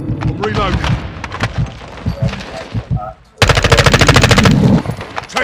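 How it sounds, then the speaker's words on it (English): A sentry gun blasts away in Call of Duty: Modern Warfare II, a loud rapid automatic burst hammering out in a fast, even rhythm after a stretch of scattered gunfire and a player's chatter. "My sentry gun's putting in work, boy!"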